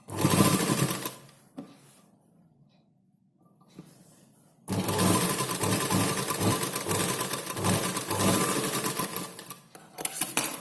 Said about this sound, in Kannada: ಈ ಟಕ್ಸ್ ಅನ್ನು ಕೂಡ 2 ಸರ್ತಿ ಹೊಲಿರಿ.